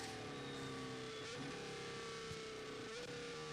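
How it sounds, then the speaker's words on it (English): Formula 1 car engine at the Japanese GP practice session, a steady throaty high-pitched drone with a pitch sweep as it passes, loud and continuous with no talk. "Car sounds throaty out there as well."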